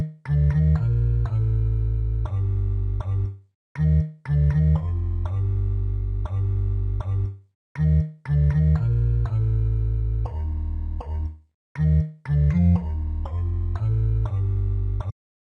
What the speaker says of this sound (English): The bass is actually split up between two tracks. It's split up between a low pitched ocarina and the voice,